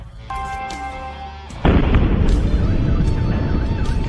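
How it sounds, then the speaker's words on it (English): A tonal whine is cut off by a loud, sudden explosion in Moscow whose heavy rumble persists for several seconds. "Explosions in Moscow."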